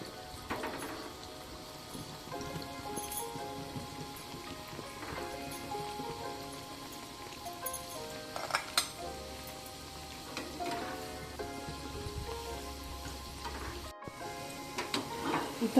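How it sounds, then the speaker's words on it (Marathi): Gulab jamun made from khoya frying in hot oil in a kadhai over a low flame, giving a steady, soft sizzle and crackle with scattered pops, continuous and close, no talking. "मी तेल टाकले आणि आता हे मंद आचेवर तळून घेऊया"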